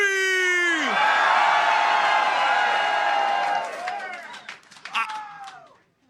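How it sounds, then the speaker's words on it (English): A political rally crowd at a Donald Trump event in Laconia, New Hampshire screams and cheers loudly for several seconds, a sustained wall of high-pitched voices that then breaks into scattered whoops and fades. "If you want 4 more years of Donald Trump, let me hear you scream."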